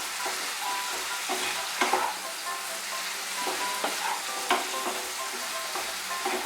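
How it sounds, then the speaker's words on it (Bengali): Flat beans (shim) being stirred with mustard paste in a hot frying pan make a steady loud sizzle throughout, with a spatula scraping and turning the mixture in irregular strokes, no voices. "সর্ষে বাটাটা মিশিয়ে নিব ভালো করে সিমের সঙ্গে।"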